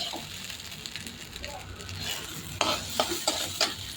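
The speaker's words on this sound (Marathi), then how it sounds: "चांगली तुपामध्ये साबुदाणा परतून घेतला" Sago pearls stirred and fried in ghee in a pan give a steady soft sizzle, with several sharper scraping stirs toward the end, close by.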